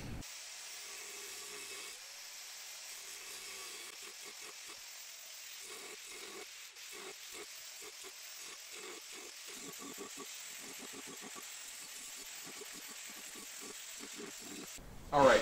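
Angle grinder cutting a burner hole through a modular sword forge body, a continuous high whining grind running the whole time with broken, scraping bursts as the disc bites and chatters against the material.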